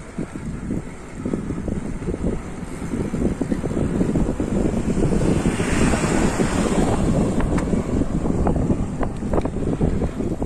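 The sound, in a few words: ocean waves at Tabunio beach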